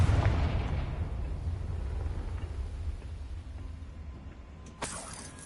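A fiery Confringo spell blast from Hogwarts Legacy opens loud and low with a booming burst that rumbles and fades over several seconds, followed by a sharper crack near the end.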